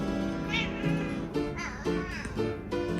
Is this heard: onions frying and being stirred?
no